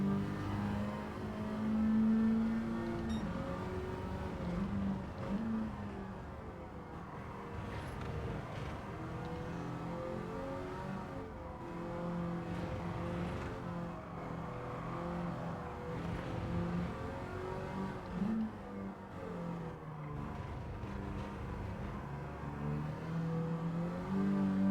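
K-swapped Honda Beat race car engine in Gran Turismo 7 at Autopolis, a steady revving hum that rises and falls through gear changes, moderately distant, with no talking.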